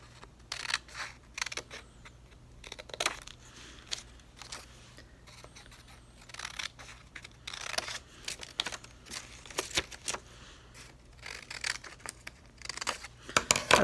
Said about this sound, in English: you can see as I cut on my line, I'm just stopping just short of the center.